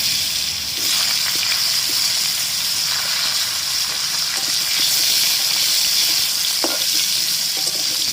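Cut potatoes frying in hot oil with cumin in a kadai, a loud, continuous close-up sizzle and hiss with faint stirring scrapes and small pops throughout.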